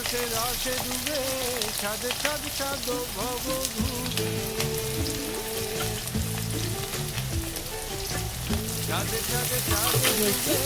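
Onions sizzle steadily in hot oil in a pan, with a dense, crackling hiss and some stirring, all under continuous background music.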